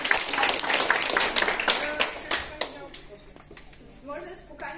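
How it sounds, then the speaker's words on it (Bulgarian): Audience applause for a presenter at a BNI Uspeh business networking meeting, a dense burst of clapping that is loudest at first and then thins out, with voices murmuring underneath. "Аплодисменти за Радо още веднъж."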